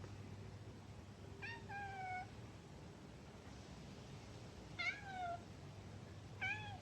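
A cat meows three times at intervals, each call a clear, fairly close cry rising over a steady low hum and background rustle, with no talking.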